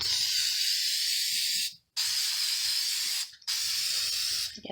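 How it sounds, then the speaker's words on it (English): A steady, loud aerosol spray paint hisses in three long bursts, cut by two brief pauses, close to the listener with no voices. "I wanted to see how it looked with the spray paint"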